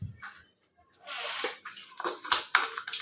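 Water pours into a glass in short bursts, with brief gulping and swallowing sounds, close and fairly faint.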